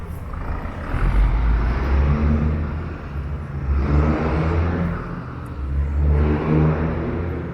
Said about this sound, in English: Very noisy trolley bus.